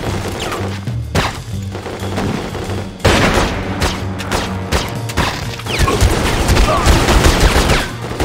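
Sniper and other gunfire in The Godfather II on PC crack out as loud, dense volleys with heavy impacts and crashes, a near, busy firefight that swells after a brief lull.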